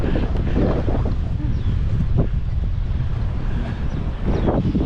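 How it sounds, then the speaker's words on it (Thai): Strong wind roars steadily across the microphone outdoors at the Chiang Kai-shek memorial in Taiwan, loud and continuous with gusts swelling and easing. "ลมแรง"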